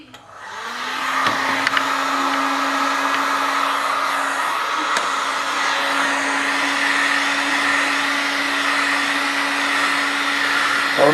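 A heat gun blows hot air onto a curved plexiglass windshield to flatten it, starting up and then holding a steady, loud, close whooshing hum with a constant motor whine.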